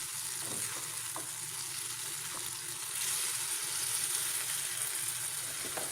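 Continuous sizzling and frying hiss with soft scraping of stirring in a pan as tuna (ikan tongkol) and a little water are mixed, fairly close and steady, growing slightly louder midway; no speech.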